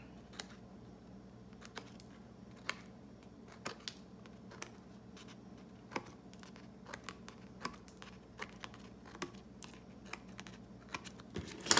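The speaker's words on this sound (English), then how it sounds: "all you have to do is just cut them like this" Scissors snip through paper pictures cut out for a planner, giving many quiet, crisp clicks in an irregular rhythm. The snips sound close by and stand alone against a faint background hum.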